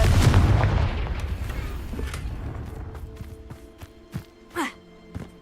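Confringo fire spell from Hogwarts Legacy, a rumbling blast that decays over a few seconds, followed by several short sharp impacts and a brief whooshing burst, loud at first then fading.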